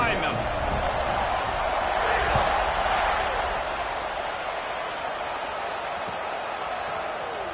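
Stadium crowd in a college football video game roars steadily as a kickoff approaches, a broad continuous wash of cheering that swells slightly midway and then holds level beneath play-by-play commentary.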